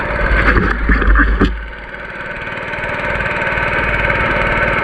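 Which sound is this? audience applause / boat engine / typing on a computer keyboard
boat engine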